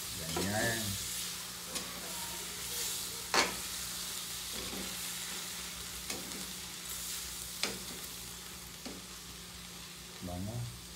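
A vinegar mixture for a liver and gizzard dish bubbles and sizzles steadily in a pan, with occasional sharp scraping stirs and clinks of a utensil against the pan.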